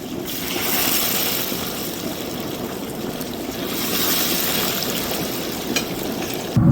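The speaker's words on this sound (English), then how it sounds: "I got the oil in the turkey fryer nice and hot" A 36 lb turkey deep frying in hot oil in a turkey fryer, giving a steady, loud bubbling sizzle throughout, with a brief clunk at the very end.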